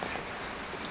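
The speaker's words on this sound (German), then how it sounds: "Samstagmorgen, viel Regen, total geiles Wetter." Rain falls steadily outdoors on a wet Saturday morning, a soft, even hiss with no other sounds over it.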